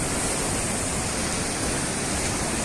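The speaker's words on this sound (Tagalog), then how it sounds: "Lakas ng ulan, guys." Heavy rain pours down by the sea in Oman, a dense, steady hiss that fills the scene without pause and may blend with nearby surf.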